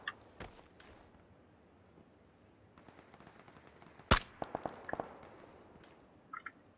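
Video game gunfire crackles in scattered bursts, a few faint distant shots early, then a loud sharp close shot followed by a quick cluster of cracks and some softer pops near the end.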